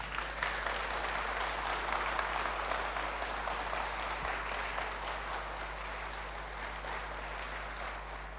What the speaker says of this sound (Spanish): Den un aplauso al Señor esta noche